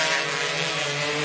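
A racing motorcycle engine at Sentul circuit with a gear-shifting fault, giving a steady, buzzing drone with a strong low hum throughout.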